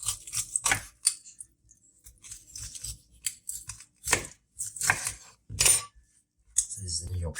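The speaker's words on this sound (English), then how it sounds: "we can proceed to cut it. Just cut down the bone here." A knife cuts a rested porterhouse steak down the bone, making crisp intermittent scraping and clicking strokes in separate bursts amid quiet gaps, heard close up with some talking in between.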